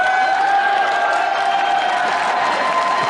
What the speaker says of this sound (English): Crowd urging him on here.